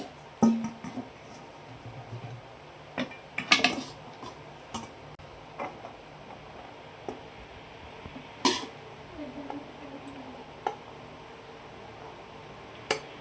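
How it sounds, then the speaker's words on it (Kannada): Egg rice is served onto a plate with a spoon, scattered clinks and scrapes of metal on the plate and pan spread out over a quiet background. "ನೆಕ್ಸ್ಟ್ ಒಂದು ಪ್ಲೇಟ್ಗೆ ಹಾಕ್ಕೊಳ್ತಾ ಇರೋದು."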